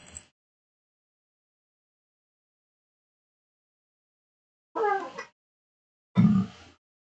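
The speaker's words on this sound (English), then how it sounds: "Where the hell did that cat go?" A cat meows twice, a short plaintive call followed a second later by a louder, fuller one, with a faint fragment at the very start and long silence between.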